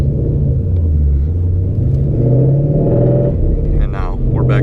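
A Ford Mustang GT with a cam tune pulls away from a stop, its deep, lumpy engine rumble swelling steadily and close, with a brief voice near the end.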